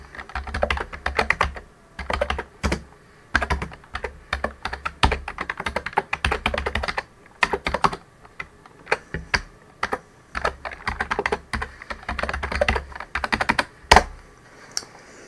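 Python script being typed on a computer keyboard, with rapid, uneven bursts of clicking keystrokes and short pauses between flurries, close and clear with no voices.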